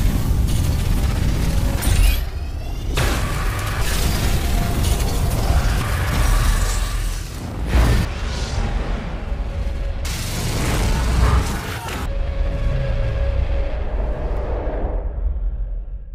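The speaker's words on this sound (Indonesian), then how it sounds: "tepat sesaat sebelum meriam Shanghai ditembakkan" Massive cannon fire during an alien invasion battle in Shanghai, with loud, dense blasts and grinding mechanical rumble that keep going throughout and cut out abruptly a few times. No one speaks.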